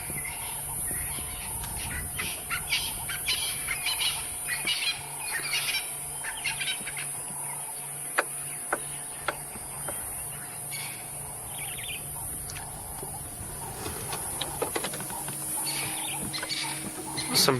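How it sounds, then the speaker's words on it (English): Evening birdsong in the African bush at sunset: scattered chirps and calls, fairly distant and moderate, repeating through the scene over a steady high insect drone, likely cicadas. "Some birds giving their last calls of the evening."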